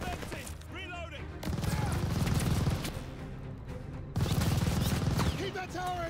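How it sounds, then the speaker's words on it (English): Dense machine gun fire and overlapping gunshots in the Call of Duty Vanguard video game, a steady loud barrage with bursts that swell and ease, while shouted voices are heard over the battle. "Suppress that MG! Hitting the MG!"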